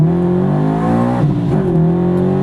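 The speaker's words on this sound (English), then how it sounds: "We'll do a first gear from 20 miles an hour." A supercharged Subaru BRZ pulls hard in first gear from about 20 mph, its engine a loud, close, steady rising drone with a brief wobble midway, with no voices.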